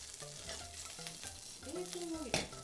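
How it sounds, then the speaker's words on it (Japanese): Bacon sizzles in a frying pan as it renders into bacon oil for carbonara. The frying hiss is steady and soft, with faint tonal sounds in the background and no talking. "ベーコンオイルを作ります。"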